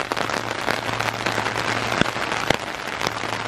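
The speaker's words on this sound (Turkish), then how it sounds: "Abi ölüm gibi şu an yağmur yağıyor bu arada ya." Heavy rain falls steadily outdoors as a dense, continuous patter, with a few sharper nearby drops or knocks standing out.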